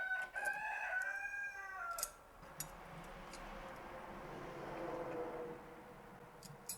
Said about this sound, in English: Nobody wants to hear you crowing.